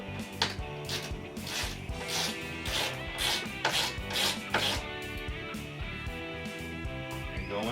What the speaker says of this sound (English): with our Allen head screws already started, we're going to start cranking down our machine screws